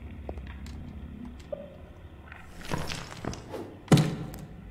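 A lever yanked in the video game Burnhouse Lane: a few dull mechanical thunks and knocks, ending in one sharp, louder clunk, alone with no talk.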